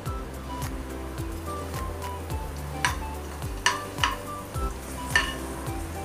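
Raisins fry in a pan for beetroot halwa, a soft sizzle with light clinks and stirring knocks from a utensil, a few sharper taps standing out, no talk.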